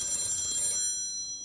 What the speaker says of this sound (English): But if I don't pick up the phone,